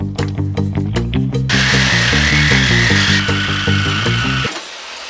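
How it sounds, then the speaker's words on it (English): A Sawzall reciprocating saw cuts into a Jeep cross member, starting with a few short revving bursts and then running as a loud, steady, rhythmic buzz that stops abruptly near the end. "And I think we're gonna start with using the Sawzall"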